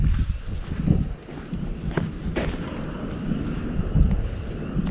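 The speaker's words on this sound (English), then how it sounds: "the wind is ripping and there's swells" Strong gusting wind roars across the microphone beside two ponds during late-winter bass fishing, a steady rumbling buffet that swells and dips without pause, no voices.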